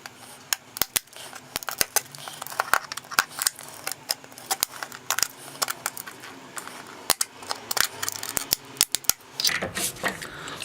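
Scissors snipping through a plastic bottle while making a hanging bottle-tower garden, giving irregular sharp close clicks and crunches in quick bursts over faint background noise.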